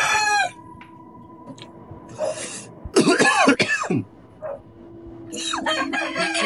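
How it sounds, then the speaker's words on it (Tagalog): A few harsh coughs and throat-clearing bursts close up, separated by pauses, with a rooster crowing in the background. "inuubo ako"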